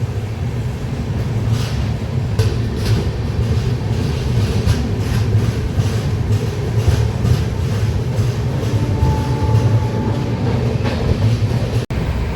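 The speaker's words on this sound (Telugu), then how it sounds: "మన ట్రైన్ అయితే బయలుదేరింది కాజీపేట రైల్వే స్టేషన్ నుండి" The Charminar Superfast Express rolls along steadily after leaving Kazipet station, a continuous low rumble with faint rhythmic clatter from the wheels, loud and close throughout, with no talking.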